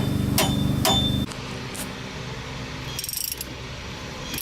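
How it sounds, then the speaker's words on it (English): Two sharp metallic taps of a hammer driving shock absorber bolts into a 1999 Oldsmobile ring out close by, followed by softer clinks and mechanical rattling against a steady background hum. "you have to tap them with the hammer to get them to go in."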